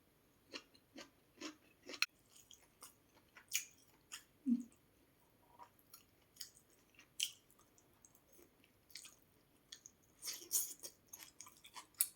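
Soft, close chewing and biting noises of rice eaten with salted fish, a steady run of small wet crunches and squishes at a quiet, intimate level with no talking over them.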